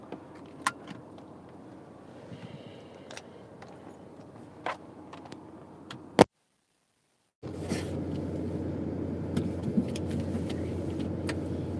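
Cars pass along a busy road in Spain, close and steady, with a few sharp clicks and knocks on top. There is a brief dropout midway, after which denser traffic rumble continues.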